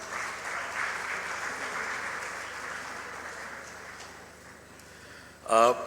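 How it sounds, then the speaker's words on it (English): Audience applause at the 2025 ACCA new members ceremony in Lahore, a steady broad wash of clapping from a large hall that fades toward the end before a short louder burst. "Can I have a round of applause, please?"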